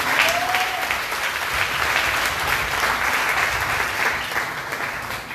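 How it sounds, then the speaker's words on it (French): A church congregation applauds together during a worship service, a steady, dense clapping that fills the room at full level throughout. "Acclamons la parole s'il vous plaît."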